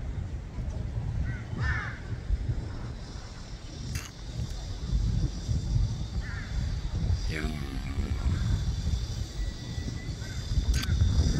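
Crows caw several times at sunset from a rooftop, scattered calls at middle distance over a steady outdoor hum and wind.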